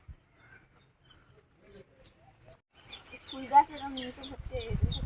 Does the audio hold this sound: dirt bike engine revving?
no